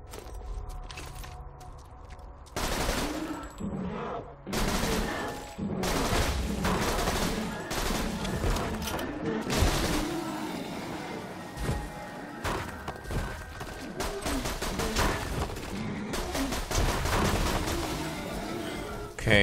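Gunfire in the Borderlands 2 video game, dense rapid bursts of shots and explosive thumps over game sound, fairly loud and continuous, with a voice speaking intermittently.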